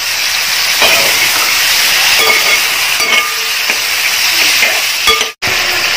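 Lemon pickle masala fries in a pan with a loud, steady sizzle and hiss as it is stirred, with occasional scraping clicks from the spoon and a sudden brief drop to silence near the end.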